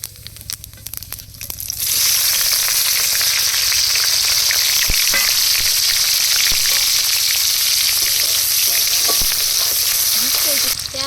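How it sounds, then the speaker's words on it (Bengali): Onion, garlic, dried chilli and nigella seeds drop into hot oil with a sudden loud, close sizzle that holds steady, with occasional stirring scrapes and pops, for about nine seconds. "তেলের মধ্যে কালো জিরা ফোড়ন দিয়ে দেবো পেঁয়াজ রসুন শুকনো লঙ্কা কেটে নিয়েছি একসাথে দিয়ে দেবো"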